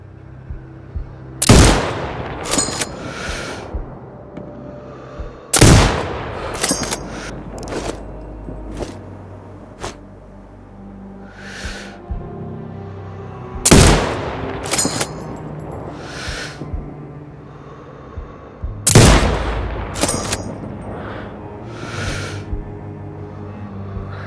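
Sniper rifle shots in Sniper Ghost Warrior Contracts 2, four loud sharp cracks spaced several seconds apart, each followed by a short echo and clicks of bolt cycling, with quieter noises in between.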